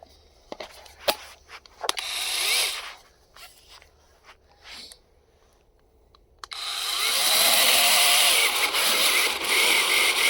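Battery-powered GRAND chainsaw cutting wood: a few brief scraping bursts and pauses, then a loud, steady buzzing cut through the wood that continues to the end.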